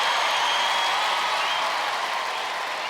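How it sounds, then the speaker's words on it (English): A studio audience gives sustained, even applause for contestants Sandra and Siobhan on a 1995 Australian Gladiators episode, a dense wash of clapping that fades slightly over three seconds with no voices over it. "Let's have a huge round of applause."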